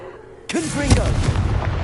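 A sudden loud blast of the Confringo blasting spell in Hogwarts Legacy, bursting out after a quiet moment, followed by a crackling, booming tail with a second thump that rings on.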